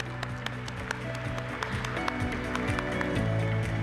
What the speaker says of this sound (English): Let's once again have a huge round of applause for Emcure, everybody.